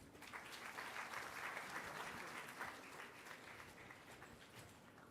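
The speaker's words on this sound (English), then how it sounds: "Good round of applause" A crowd at a formal Raj Bhavan gathering applauds in a steady, dense wash of clapping that sounds somewhat distant and quiet throughout.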